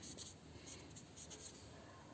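Pen or chalk scratches out writing in short strokes during a Class 9 maths lesson on polynomials, a faint, steady scribble over a low room hiss.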